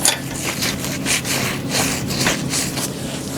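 A cloth with rubbing alcohol wipes the mating surface of a rear main plate for an RB26 engine, making soft, rhythmic back-and-forth rubbing strokes close by, without speech.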